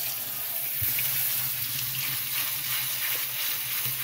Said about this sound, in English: Now I'm just going to rinse these. Get some of the leftover goo off.